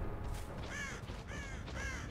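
A crow caws three times in the video game Dead by Daylight, harsh evenly spaced calls standing out clearly over a low rumbling game background.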